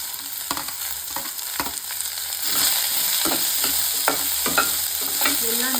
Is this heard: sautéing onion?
yes